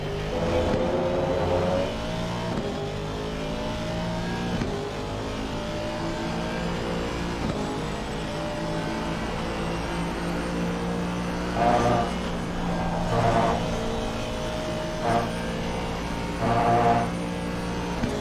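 A car drives a lap on a race track during a coaching session, its engine droning steadily and close, with revs rising and falling through gear changes across the whole stretch.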